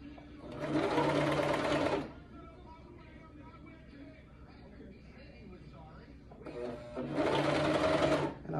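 A Brother 2340CV coverstitch machine hems spandex in two loud, close bursts of rapid mechanical stitching, with a quieter stretch between them.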